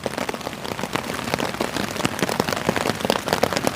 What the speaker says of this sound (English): being in a tent when it's lashing down with rain